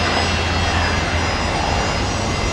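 A Qantas Airbus A330 airliner at Brisbane Airport produces a steady, loud jet-engine roar with deep low rumble throughout, at night, with no speech.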